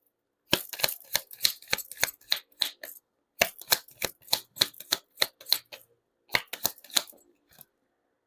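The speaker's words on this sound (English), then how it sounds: "Let's pull up another set of cards." Tarot cards snapped and riffled in quick, crisp bursts of close clicks, three rapid runs separated by short pauses, near and alone with no talk.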